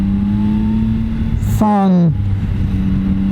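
A Yamaha Tracer 9 motorcycle engine drones steadily up close, then briefly revs up sharply and drops back to its even hum, with someone talking over it.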